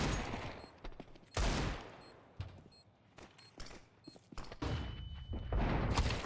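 Gunfire in Counter-Strike 2 on the Overpass map, loud bursts and rapid sharp shots with short pauses between volleys, near and punchy.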